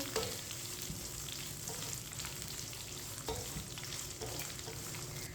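Vermicelli (seviyan) fries steadily in a pan for sweet meethi seviyan, with a constant close sizzle and soft scraping as a spoon keeps stirring through it. No one speaks.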